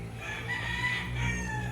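Roosters at a game farm in Tanauan City, Batangas crow nearby, a sustained clear crow heard over a low background hum.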